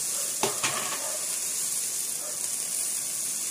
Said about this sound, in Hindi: तो ये वेजीज मेरी सॉटे हो गई, मैं हल्का सा टमाटोज को भी कर रही हूँ